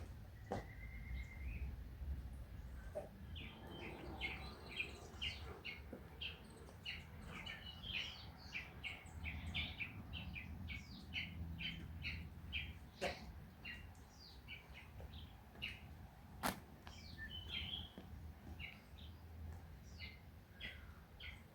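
Birds in a Nairobi sanctuary beside the Mbagathi River, with many thin chirps and short calls scattered across the whole stretch over a steady outdoor hiss, at middle distance and moderately quiet.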